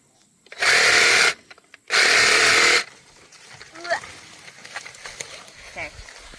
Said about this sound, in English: the jigsaw definitely made it go by a lot faster